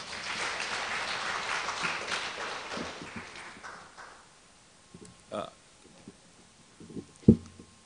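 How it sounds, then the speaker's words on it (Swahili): Audience applause at a South Africa–Tanzania cultural season event, a broad wash of clapping for the first few seconds that fades out, followed by scattered knocks and thumps in a quieter room. "Tumpe makofi mengi sana sana."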